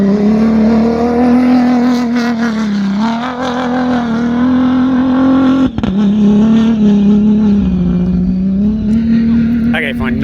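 A race car drives at speed during a race, its engine a loud, sustained drone that rises and dips slightly in pitch, with a brief sharp break midway, while a voice talks over it.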